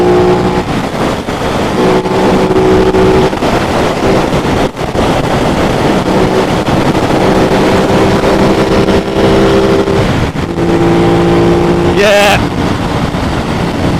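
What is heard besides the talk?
Aprilia RS660 motorcycle riding on open road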